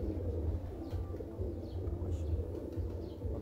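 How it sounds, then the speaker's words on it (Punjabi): Old teddy pigeon cooing in low, repeated soft pulses, with faint chirps from other birds in the background. "ਇਹ ਦੋਸਤੋ ਬੜਾ 10 ਨੰਬਰ ਕਬੂਤਰ।"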